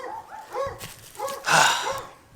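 Dogs barking in a garden yard beside raised garden beds, several short yapping barks in quick succession with a louder burst near the end, fairly close.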